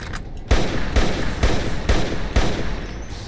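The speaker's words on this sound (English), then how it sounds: "Alright, none of these shots are hitting." Gunfire in Fallout New Vegas, with five loud, evenly spaced shots about half a second apart, each a hard close blast with a short decaying tail.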